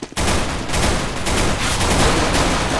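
Gunfire in CS:GO erupts after a short silence, a dense, loud, continuous burst of rapid shots filling the whole moment close up.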